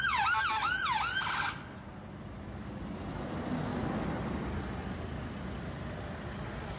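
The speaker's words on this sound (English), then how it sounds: "The ambulance is trying to get through here." An ambulance siren wails in a rapid rising-and-falling pattern for about a second and a half, then cuts off, leaving a steady low traffic and engine rumble from vehicles, including tractors, blocking a road.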